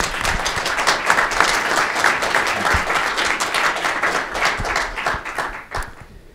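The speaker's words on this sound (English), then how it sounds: "Let's give a round of applause." An audience at a panel on national security and human rights claps steadily for several seconds, close and lively, before the clapping thins out and fades.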